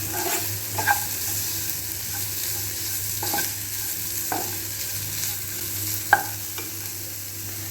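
Coconut, coriander seeds and green chillies fry in a pan for a broad-bean fry, sizzling steadily and closely while a spoon scrapes and taps now and then.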